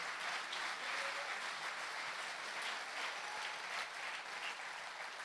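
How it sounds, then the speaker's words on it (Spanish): Congregation applauding steadily during a church service, a dense, even wash of clapping from many hands that holds at a moderate level throughout, with no distinct voices standing out. "Dele palmas al Señor"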